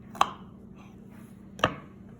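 Two sharp knife cuts separating a dandelion root from its leaves on a board, spaced well apart, close and crisp against a quiet background.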